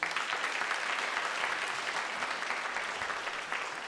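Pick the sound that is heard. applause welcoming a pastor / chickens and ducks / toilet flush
applause welcoming a pastor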